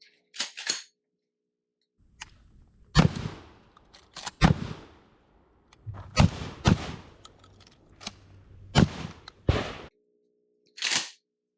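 An IWI Tavor TS12 bullpup semi-auto shotgun fires a series of sharp, loud, outdoor blasts spaced a second or so apart, broken by a pause and mechanical reload clatter, with brief ringing decay after each shot.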